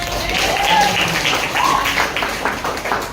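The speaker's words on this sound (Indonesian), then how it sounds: "tepuk tangan." An indoor audience at a school coaching session claps in a short burst of applause, dense and moderately loud, with murmured voices mixed in.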